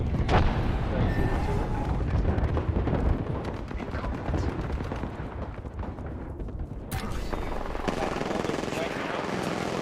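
Loud, continuous rumble of gunfire and explosions in the battle royale game Apex Legends, with a frag grenade blast among the dense chaotic firing and a sharp burst near the end.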